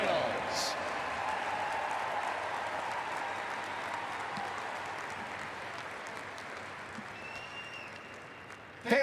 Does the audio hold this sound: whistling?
no